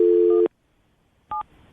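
A phone number is dialed: a steady tone is cut off, then after a short silence a single brief keypad beep sounds, both close and clean.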